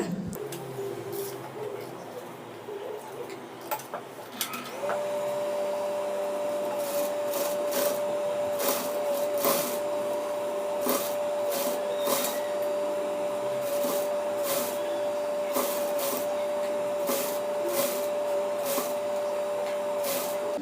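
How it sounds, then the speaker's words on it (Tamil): A sewing machine stitches cotton fabric for a T-shirt made from a chudidar. After some handling noises, a steady motor whir starts with a tonal whine and repeated rhythmic bursts of stitching, close up and alone. "இப்போ வந்து இதுக்கு மேலேயே வந்து நம்ம ஒரு ஸ்டிச் பண்ண போகிறோம்"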